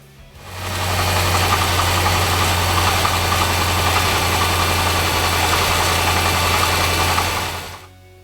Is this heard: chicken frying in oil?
no